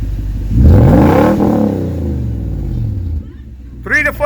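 A warmed-up 2006 Toyota Tundra's 4.6L V8 with a catback exhaust revs up to 3,000–4,000 rpm and falls back in one strong, close rise and fall, followed by a brief voice at the end.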